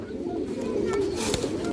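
Pigeons coo low and steady, close by, with faint speech underneath, at a pigeon seller's loft among 13-tailed birds.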